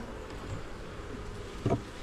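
Bees hum in a low, steady drone around a hive frame during swarm handling, faint and close, with a brief knock near the end.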